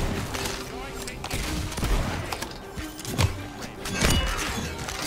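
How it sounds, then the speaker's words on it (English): Gunfire from a double-barrel shotgun in the video game Tiny Tina's Wonderlands, with several sharp blasts amid dense game noise and a constant busy mix. "Only I could miss a shotgun shot up close like that"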